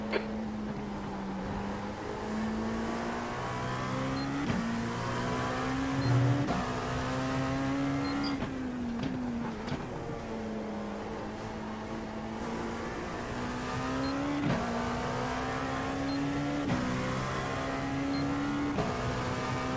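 A race car engine at the Rolex 24 at Daytona, heard from on board: a loud, continuous engine note rises through the gears, drops sharply at each shift and climbs again several times, with brief breaks as the driver lifts.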